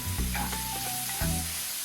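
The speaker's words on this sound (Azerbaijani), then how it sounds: "Doğradığım soğan və sarımsaqları öncədən toyuğu qızartdığım yağlı tavaya əlavə edirəm." Chopped onion and garlic sizzle steadily in an oily pan previously used to fry chicken, a close, continuous crackle with no voices over it.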